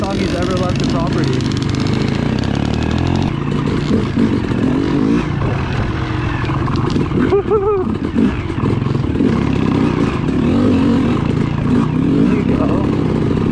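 Kawasaki KLX 140L dirt bike engine running on a woods trail, a steady continuous drone with revving swells throughout, heard beneath close talk from riders.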